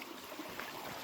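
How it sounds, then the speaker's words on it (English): Roaring waterfall beside a hiking trail, a steady broadband wash of rushing water that holds constant and fairly close throughout, with no talk over it. "You can hear that roaring water shooting up, down."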